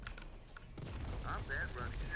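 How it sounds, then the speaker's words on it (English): Heavy cannon fire in the video game Uprising Sandbox, a sharp blast followed by a dense rumble of battle noise and short tonal whines, moderately loud throughout. "Fire everything. Heavy cannon, back up."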